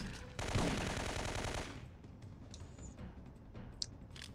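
HK5 submachine gun firing in Syphon Filter 3, a loud dense burst of rapid automatic fire lasting over a second, then fading reverberation and a few faint clicks and pings.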